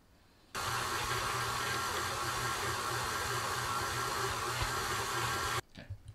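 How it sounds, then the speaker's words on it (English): A KitchenAid stand mixer kneads flatbread dough with a steady, loud motor whir that switches on abruptly, runs for about five seconds without a break and cuts off sharply, with no talking. "it's gonna go in the KitchenAid"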